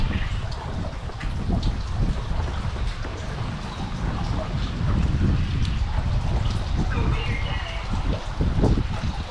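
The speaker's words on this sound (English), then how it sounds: "It's pouring." Steady heavy rain drumming on surfaces close by during a storm, heard from under a bridge, a dense continuous hiss with occasional louder splatters throughout.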